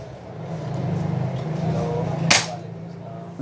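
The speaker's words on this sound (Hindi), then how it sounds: "जब ये आगे जाएगा तो फिर फायर होगा।" A side-lever airgun fires a single sharp pellet shot partway through, a loud crack rising over a steady low hum and background talk.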